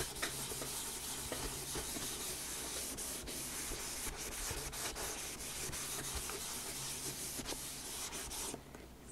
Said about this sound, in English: So I am going to start by erasing this.